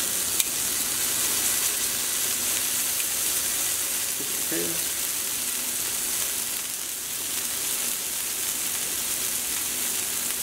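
A steak sears in a hot pan with a loud, steady, close sizzle that hisses without a break, and a faint voice briefly surfaces midway.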